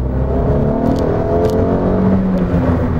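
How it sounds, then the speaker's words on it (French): Abarth 595 Competizione in sport mode, its engine revving up in a steady rising whir and rumble, close and loud for three seconds with no talk over it. "Donc on va mettre le mode sport qui est juste là et on va accélérer un coup."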